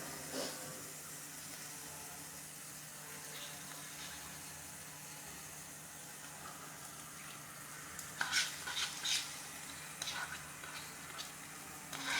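A curd mixture poured into a hot pan, a steady low hiss of sizzling that flares into sharper spitting crackles near the end, quiet and close.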